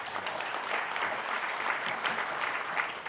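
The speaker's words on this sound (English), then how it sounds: "May I request for a round of applause for all our panel members?" A conference audience claps for a panel of speakers, a sustained even round of applause from many people in a hall, with no talking over it.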